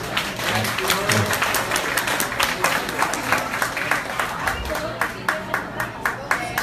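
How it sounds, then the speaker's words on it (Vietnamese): Audience applause at a radio station's seventh birthday celebration, many hands clapping in a rhythmic, partly synchronized beat, with crowd murmur underneath throughout. "Xin quý vị cho một tràng pháo tay."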